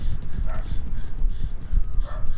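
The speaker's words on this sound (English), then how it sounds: "Shut up, dog." A dog in the horror game Ang Ospital barks in short repeated yaps against a muffled low rumble of game ambience, fairly loud and close, several barks spread across the stretch.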